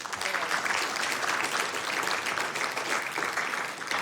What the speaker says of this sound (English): That deserves a round of applause.